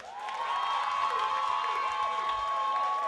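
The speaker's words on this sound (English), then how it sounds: "just give me a round of applause" Crowd at a dancehall contest cheering, whistling and applauding together in a sustained loud wall of noise with shouts rising over it, filling the whole stretch.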